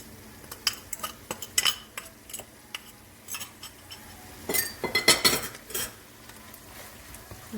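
A spoon stirs a minced meat and spinach filling with cheese in a bowl, giving a string of close clinks and scrapes in uneven bursts, with a denser flurry of rapid knocks midway.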